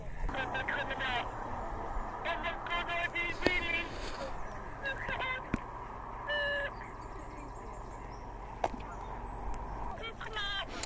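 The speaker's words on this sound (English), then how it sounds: "I don't like geese. They're evil." Geese and ducks call on a rainy outing, with repeated honking bursts over steady background noise and wind, some calls near and others farther off.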